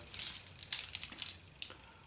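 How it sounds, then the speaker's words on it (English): A car key and house keys on a KeySmart organizer jingle and clink in short bursts, a bright metal rattling close by with brief pauses between shakes. "Key smart with my house keys on there."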